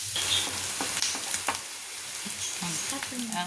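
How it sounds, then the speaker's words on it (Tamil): Onions fry in oil toward golden brown, giving a continuous dense sizzle with a few light spatula scrapes, close and steady, and faint talk in the background. "வெங்காயம் நல்லா கோல்டன் ப்ரௌன் ஆகிற வரைக்கும் நல்லா நம்ம வறுக்கணும்"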